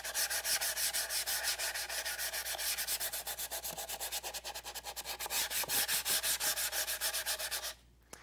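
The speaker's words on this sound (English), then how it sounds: "You don't have to sand very hard, just the light scuffing across the surface, and it'll leave a really smooth finish behind." Fine 220-grit sandpaper lightly scuffs a dry finish in a lantern-finishing job, producing a steady, close, continuous rasp of quick back-and-forth strokes that runs unbroken and then stops abruptly just before the end.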